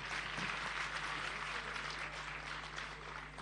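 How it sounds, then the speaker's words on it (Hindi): Steady applause from an audience at a Jain religious discourse in Jahazpur, Rajasthan, a dense continuous wash of clapping held at an even level throughout with no voices over it. "तो मैं चाहता हूँ एक बार जोरदार तालियां जो आगे बैठे हैं लोग इनके लिए भी होनी चाहिए।"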